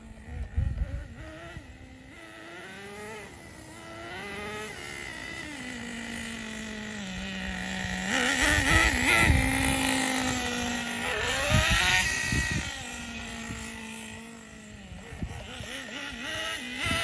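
A Team Associated RC10GT radio-controlled car driving back and forth, its nitro engine buzzing with rising and falling whines as it passes, revving harder in the middle, steady and fairly close with no talk.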